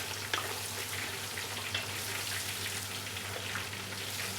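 Onions, tomatoes and green chilies fry in a pan with a steady, soft crackling sizzle throughout, moderately close and uninterrupted, with no voices.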